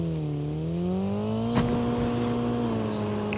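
A vehicle engine drones in the Call of Duty Mobile battle royale game, a steady, slowly rising hum with a short thump midway. It continues on its own for a few seconds.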